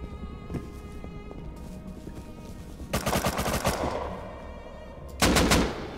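Automatic gunfire from the survival video game Rust cracks out in two loud, dense bursts, a longer rattle midway through and a shorter one near the end, over a low background hum.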